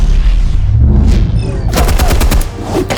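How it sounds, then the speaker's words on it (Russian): Video game combat from Batman: The Telltale Series: a deep rumbling blast gives way to rapid, loud bursts of gunfire, with sharp repeated shots clustered near the end. "Закинули сюда гранату. И вырубили все электричество."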